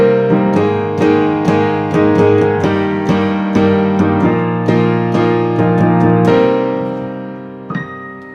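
Piano playing a dramatic chord progression, big struck chords hit repeatedly with heavy sustain ringing into each other, loud and full, fading out on a final decaying chord.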